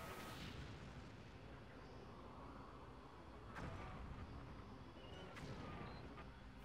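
Distant heavy artillery or mortar fire in a World War II video game assault, a constant low rumbling barrage with a couple of sharp louder booms cutting through.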